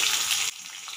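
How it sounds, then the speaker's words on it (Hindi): Raw mango pieces dropped into a hot pan of oil set off a loud burst of sizzling that quickly settles to a quieter, steady fry. "इसमें हम आम के पीसेस को डाल देंगे"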